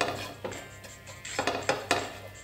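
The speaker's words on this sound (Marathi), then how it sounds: "ते मी आता एका प्लेटमध्ये काढून घेते।" A metal spoon scrapes and clinks against a pan while spiced green pea filling for matar karanji is moved onto a plate, giving a handful of sharp, close knocks over quiet kitchen background.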